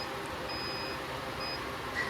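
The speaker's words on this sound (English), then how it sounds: "Let me turn off that alarm." A Rite Farm incubator alarm used for hatching emu eggs, thin high-pitched electronic beeps sounding in two short tones over a steady hum, moderately faint and alone.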